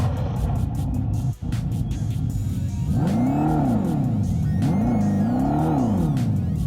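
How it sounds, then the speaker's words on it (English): A big V8 engine roars through a Fratsonic chambered exhaust, revving up hard twice in deep, throaty swells after a rumbling idle, at an auto show. "When you hit that throttle in the V8 and it roars"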